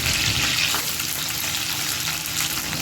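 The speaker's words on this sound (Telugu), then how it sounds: "ఆయిల్ వేడయ్యాక 4 పచ్చిమిరపకాయలు, 2 రెమ్మల కరివేపాకు," Green chillies and curry leaves fry in hot oil in a pan, giving a steady, close, loud sizzle with crackling spatter throughout and no voices.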